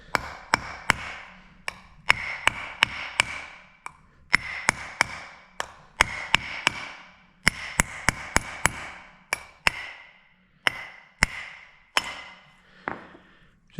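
Light hammer taps on a GM 10-bolt front axle differential carrier to ease it out, sharp metallic strikes in irregular clusters with a ringing tail, close and alone.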